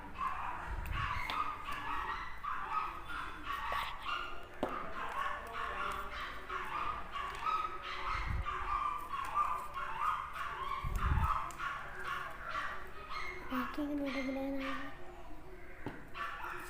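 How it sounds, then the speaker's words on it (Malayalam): A pet dog at home gives repeated sharp barks and yips, moderately near and fairly quiet, spread across the scene with faint background noise. "അത് ആദ്യം കണ്ടിട്ട് ഇങ്ങനെ കുരക്കുകയാണ്."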